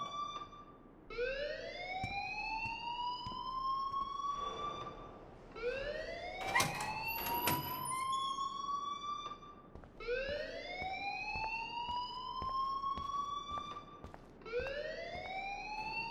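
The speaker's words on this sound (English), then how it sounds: "please turn off that alarm since that's your job" School alarm in the video game Life is Strange, a rising electronic whoop repeating in long sweeping cycles about every four seconds, loud and sustained, with a brief clatter midway and no talking.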